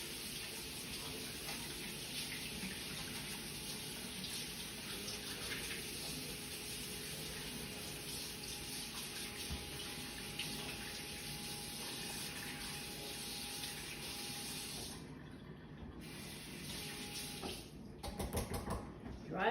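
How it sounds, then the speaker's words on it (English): Running tap water streams steadily from a faucet as hands are washed, a continuous broadband wash that cuts off near the end, followed by a few brief clatters. "So, I'm gonna wash my hands again."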